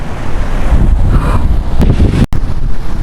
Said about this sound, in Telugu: గాలి అయితే చాలా ఎక్కువ వేస్తుంది.